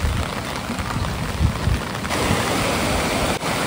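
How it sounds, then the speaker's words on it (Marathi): Heavy monsoon rain in Konkan, with rushing water roaring loudly and continuously near a new bridge, a dense steady wash of noise. "आणि पाण्याचा आवाज येतोय नुसता जोरात"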